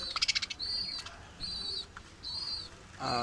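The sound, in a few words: pet birds in cage, albino and lutino birds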